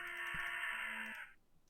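A parrot in the puzzle game Rusty Lake Roots gives one sustained, harsh squawk lasting about a second, clear and loud with no talking over it, then fades.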